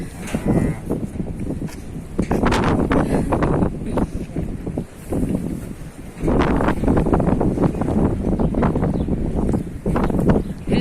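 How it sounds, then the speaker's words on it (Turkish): Strong wind buffets the microphone in continuous gusts, a loud rumbling roar that swells and eases, with a brief lull around the middle. "rüzgar"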